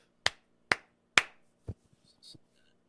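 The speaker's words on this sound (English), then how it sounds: "I clapped in real life." Three sharp, evenly spaced hand claps ring out close and loud in a quiet room, followed by a duller knock and a few faint small noises.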